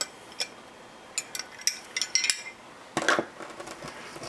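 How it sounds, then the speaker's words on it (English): Light scraping and clinking of a spoon against a glass or bowl, stirring Epsom salts to dissolve them in water, in irregular taps and swirls, fairly close and quiet. "Stirring these around to make sure that they're all dissolved in the water."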